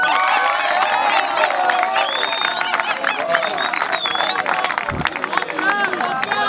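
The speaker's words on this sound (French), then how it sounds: "Coach Eric Tibassou, sous vos applaudissements." A crowd cheers and shouts at a youth football recruitment event for Congolese players, greeting the coach who sponsors it; dense, loud babble of many voices with whistles and children's shouts, steady throughout.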